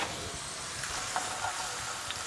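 Asparagus frying in olive oil in a skillet gives a steady, even sizzle throughout, with a few faint clicks on top as it's stirred.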